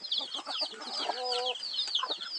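Native chickens cluck softly nearby in short, busy bursts, one bird giving a brief drawn-out call midway, over a faint outdoor farmyard background.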